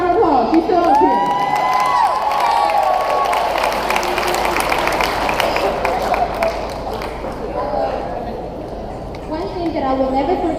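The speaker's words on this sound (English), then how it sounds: "It's okay, give her a round of applause." A high school graduation audience claps and cheers, with whoops and children's shouts rising over the steady applause of the crowd while voices carry through the room.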